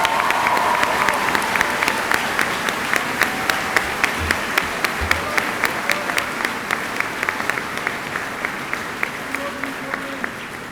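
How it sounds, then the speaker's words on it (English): Sustained applause from a high school graduation audience, a broad continuous roar of clapping with a steady rhythmic clap cutting through, loud and close throughout. "Please give those people a nice round of applause"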